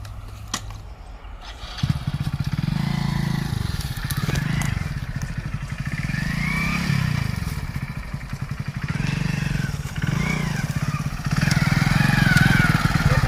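A motorcycle engine runs throughout with a rough, rattling idle that rises and falls as it's revved, close by.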